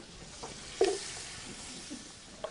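Celery sautés with onion and garlic in a pan on the stove, a soft, steady sizzle with one brief stirring scrape partway through.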